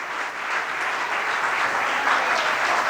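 Steady, dense audience applause at a religious honour ceremony in Dhar, Madhya Pradesh, filling the hall evenly and continuously without any voices.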